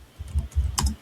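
Keys clack on a computer keyboard in a quick, uneven run of soft taps, close by and moderately loud, without speech.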